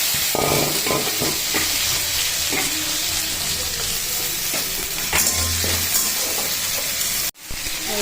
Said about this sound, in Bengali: ডালে তেলে ফোরম দিলাম মেথি গৌরি কালো জিরে শুকনো লঙ্কা আর পেঁয়াজ